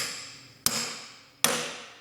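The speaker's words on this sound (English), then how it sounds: "you have to use a hammer and actually hit this in" Two sharp metallic hammer blows ring out on a steel axle gusset of a JK Dana 30 front axle being bent outward, each strike followed by a long decaying ring, spaced under a second apart.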